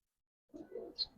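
A Giribaz pigeon, one of the khaki or colored birds, lets out a quick, faint low coo followed by a brief higher note after a moment of silence.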